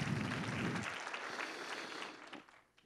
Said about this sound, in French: Est-ce que je peux entendre une main d'acclamation